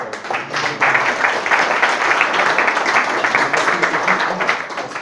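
Audience applause at a live startup pitch event, loud and continuous clapping from a crowd that swells quickly and holds steady to the end.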